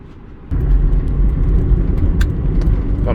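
A 2000 Subaru Outback with a 5-speed manual pulls out for a drive, a steady loud engine and road rumble from inside the cabin that swells after a quieter opening, with a few faint clicks and no talk.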